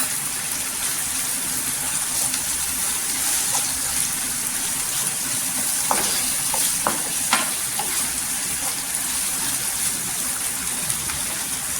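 Ginger-garlic paste sizzling and frying in hot oil in a home kitchen pan, a loud continuous hiss with a few stirring scrapes and clinks partway through.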